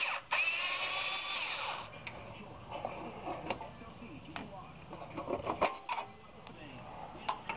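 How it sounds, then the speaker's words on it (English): Screws being removed from the sheet metal cover of an oil preheater on a Reznor waste oil burner, heard as close metallic clicks, scrapes and ratcheting tool taps at an uneven pace. "Remove screws from oil preheater mounting sheet metal"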